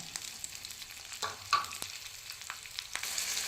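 Garlic, ginger and tomato cooking in a pan give a faint, steady sizzle with occasional light stirring taps and scrapes, close but quiet, with no voices.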